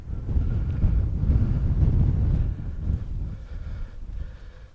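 Strong wind on Wingland Marsh at Terrington St Clement buffets the microphone in a low, steady rumbling roar that eases slightly partway through.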